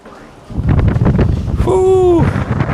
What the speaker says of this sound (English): It's just been way too windy.